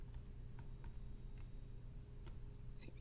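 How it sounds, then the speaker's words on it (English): Computer keys are pressed in a short run of sharp, quiet clicks at an uneven rhythm, typing on a keyboard while controlling a block mining simulation game, close and alone over a low steady hum. "if I press W, now it's doing the keyboard auto repeat"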